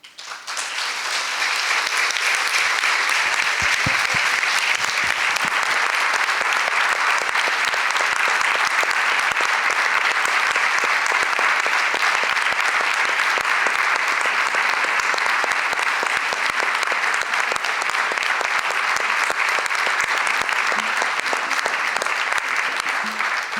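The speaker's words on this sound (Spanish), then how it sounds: "este aplauso significa un final" Audience at a book presentation breaks into sustained, loud applause that runs steadily for over twenty seconds, a thick wash of many clapping hands with no break.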